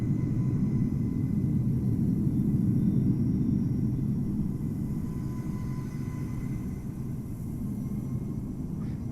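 Simulated Boeing 737 airliner at Amsterdam Schiphol in cloudy weather in Microsoft Flight Simulator, a steady deep engine rumble holding loud for most of the stretch and easing slightly toward the end, with no voices.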